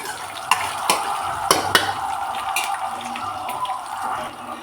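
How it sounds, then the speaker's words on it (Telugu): Finely chopped onion and ginger fry over a low flame in a pan: a soft continuous sizzle broken by sharp clicks and scrapes of stirring, fairly quiet, with no talking. "ఒక చిన్న ఆనియన్ అండి ఇలా సన్న సన్న ముక్కలుగా కట్ చేసుకొని వేసుకున్నాను సిమ్లో పెట్టుకొని మనం బాగా ఫ్రై చేసుకోవాలి"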